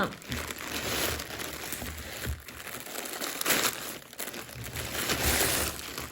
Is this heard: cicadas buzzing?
no